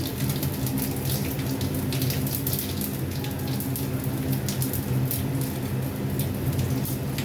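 White cumin seeds, dried red chilli and bay leaf sizzle in hot oil for a bottle-gourd rohu fish curry, a continuous close frying hiss with fine crackle and no voices.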